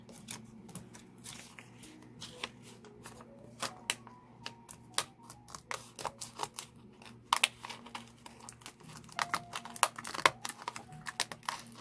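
Scissors snip paper out of a decorative journal, giving quiet, irregular crisp cuts and rustles close by in a hushed room.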